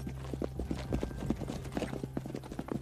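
Horse hooves clip-clop in a steady, fairly close rhythm of repeated hard knocks over a low background hum, with no voices.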